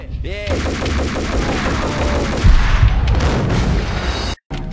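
Rapid, loud gunfire from a weapon in the PC game Max Payne, with dense repeated shots and booming low impacts, running almost continuously before cutting out abruptly near the end.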